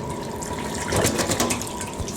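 Very hot water pours steadily from a tap into a machine's hose and overflow, a continuous broadband splashing rush that swells slightly partway through, with no voices.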